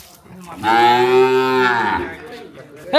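A cow moos once on a village farm, a long, loud, drawn-out low call close by, then fades to quiet.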